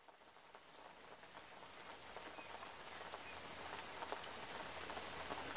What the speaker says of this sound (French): Un matin où la pluie crépitait